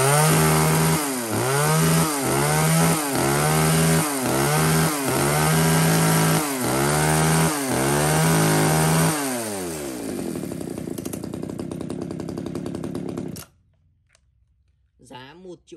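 A used Japanese chainsaw runs loud and close, revving up and down in about eight rhythmic surges before settling into a steady idle and cutting off, with someone talking over it.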